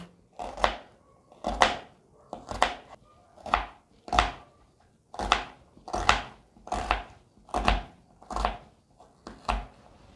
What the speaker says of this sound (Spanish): Lo primero que voy a hacer es picar mi cebolla